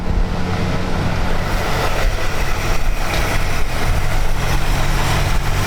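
A 1937 Ford Tudor bustle-back street rod with a Ford engine and full-size mufflers idles steadily and smoothly, a continuous low rumble heard up close with no talking.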